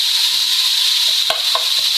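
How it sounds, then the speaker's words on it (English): Minced meat sizzles loudly and steadily in a frying pan, a dense continuous hiss with a few short scraping stirs, with no talking. "Hopefully you can hear me over the sizzling of the mince."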